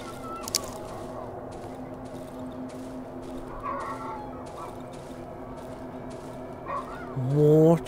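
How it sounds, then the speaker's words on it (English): Chickens clucking in the horror game Darkwood, a cluster of short calls over a steady ambient drone, with a louder squawking burst near the end. "Chickens."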